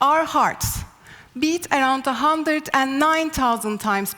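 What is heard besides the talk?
None of the usual background noises is heard.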